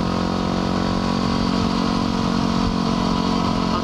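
A Suzuki 1000 motorcycle runs close by with a loud, steady engine drone and rough mechanical clatter, sounding near and continuous with no voices.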